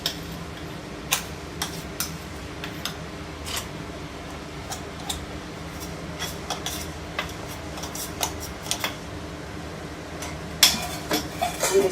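A spoon stirs ground soybean dal flour into warm milk in a pan, producing light, irregular ticks and scrapes against the metal that grow a little louder and busier toward the end, heard close with no speech.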